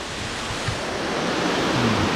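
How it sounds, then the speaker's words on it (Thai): Steady broadband rush of flowing water at Kroeng Krawia Waterfall in western Thailand, running at moderate flow, constant and fairly loud, with a low rumble underneath and no voices. "น้ำตกกำลังไหลกำลังดีอ่ะ ไม่แรงเกินไป ก็ ไม่น้อยเกินไป"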